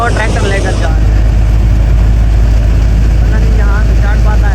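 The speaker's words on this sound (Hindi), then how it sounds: "वो ट्रैक्टर लेकर जा रहे हैं" A tractor engine hauls past on a farm during a wheat harvest, a loud, heavy low-pitched rumble that stays close throughout, with someone talking over it at the start.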